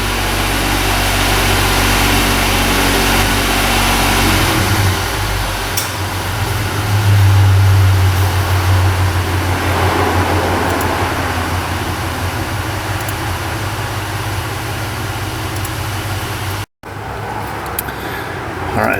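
A Chevy Impala with EVAP trouble codes drives along, its engine giving a steady, loud, close-up drone with road and cabin rumble throughout, briefly cutting out near the end.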